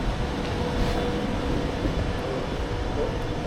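A London Underground Piccadilly line train rumbles steadily in a station, a dense low roar with no clear breaks, fairly loud and continuous.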